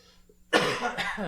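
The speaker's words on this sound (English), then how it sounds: "I've got a little bit of a cough." A single close, harsh cough bursts out after a moment of near silence, followed by a brief rough tail.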